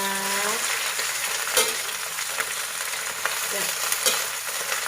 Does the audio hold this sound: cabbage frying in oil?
yes